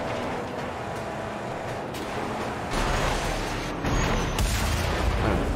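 Gunshots from a handgun in the video game Mad Max crack through a steady roar of engine and combat noise, several reports blending into the dense background.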